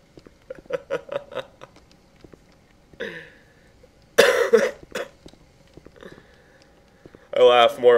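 A person coughs in short rough bursts, some of them loud and close, with people talking between the coughs.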